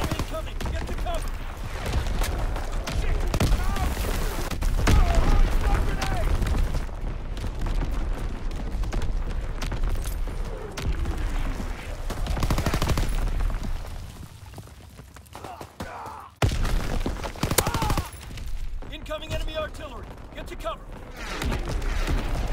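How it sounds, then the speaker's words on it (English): Artillery shells exploding during a Call of Duty: WWII team deathmatch, heavy low booms landing repeatedly amid battlefield noise and gunfire, with voices shouting over the blasts. "Incoming enemy artillery! Get to cover!"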